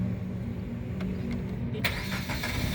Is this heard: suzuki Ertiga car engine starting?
yes